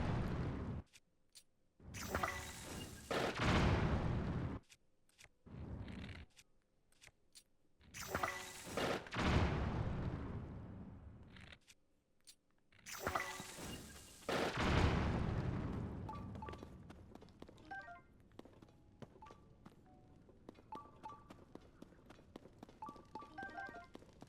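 Bombs explode in The Legend of Zelda: Tears of the Kingdom, a series of loud, booming blasts separated by silence, with quieter rumbling and clinks toward the end.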